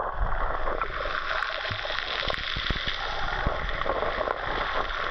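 Waves of the Surigao Strait slapping against a small boat off a pebble beach in Surigao City, Philippines, a constant broadband wash of water and engine-like rumble with a few sharp splashes, loud and close.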